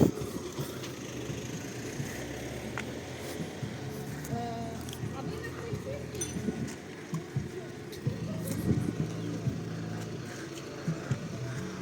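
A garbage truck's engine idles and rumbles in the morning town centre of the Truskavets resort, a low continuous drone under someone talking nearby, with scattered street noise.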